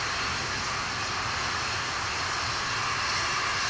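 A steady, dense roar of an Atlas V rocket's engines at liftoff on the NROL-101 spy satellite mission rumbles continuously, broad and loud with no breaks, heard from a distance.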